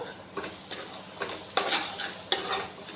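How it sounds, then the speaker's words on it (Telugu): Salt and chili powder stirred into an egg curry frying in a pan make a soft sizzle under several distinct scraping spoon strokes, close and clear with no talk. "ఇలా ఉప్పు కారం వేసుకొని కలుపుకున్నాక"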